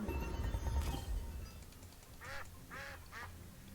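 A duck quacks in the video game Temtem, three distinct nasal quacks in quick succession following a brief burst of other game noise, fairly clear and unaccompanied by talk.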